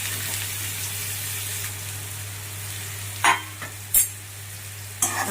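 Raw banana pieces dropped into hot oil seasoned with cumin and asafoetida, frying with a steady sizzle while a spoon stirs and scrapes the pan in a few sharp bursts near the end.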